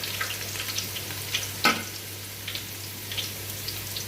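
Onions frying in a pan, a soft steady sizzle with light crackles and one brief louder scrape, heard alone without talking.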